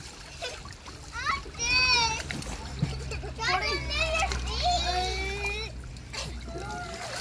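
Children splash and swim in water, with bursts of splashing mixed with excited, high-pitched kids' voices talking and calling out close by throughout.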